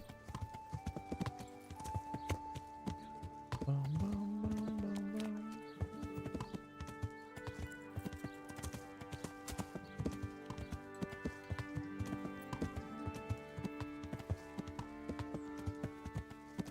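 Horse hooves clip-clop steadily through Kingdom Come: Deliverance, an even trotting rhythm that runs nearly the whole time beneath game music, with one brief whinny.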